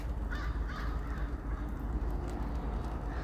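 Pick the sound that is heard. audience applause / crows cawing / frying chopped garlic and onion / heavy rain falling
crows cawing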